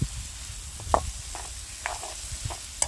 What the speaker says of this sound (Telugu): అదిగోండి పచ్చిమిర్చి టమాటో ఆనియన్ కలిపేస్తాను.